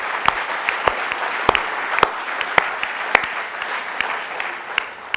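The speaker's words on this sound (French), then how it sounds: "Génération Voyage, Jean-Luc, Fabien et Marc, méritent vraiment de grands applaudissements." Applause from an audience at the closing ceremony of a travel entrepreneurs' conference: sustained, even clapping from a sizable crowd with sharper individual claps standing out, continuous throughout without talk.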